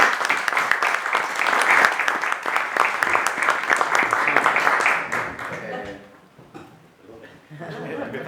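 Audience applause at a Spanish-language book launch, a dense steady patter of many hands clapping for about five seconds, then fading to scattered claps and murmuring voices.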